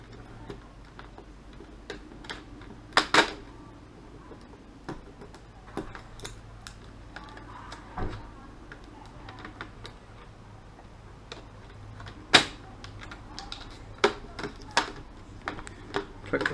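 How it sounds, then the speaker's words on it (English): Plastic screen frame of an ASUS X802C laptop pressed back on by hand around the panel, a long run of small, irregular dry clicks and snaps, some louder and sharper than others, close and quiet against a faint steady hum. "So just go ahead and click this on nicely, like so."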